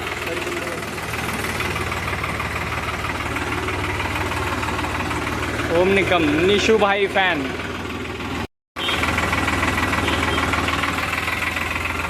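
A steady tractor engine rumble, with its rotavator jammed, runs throughout beneath someone talking, with a brief dropout near the end before the running engine resumes.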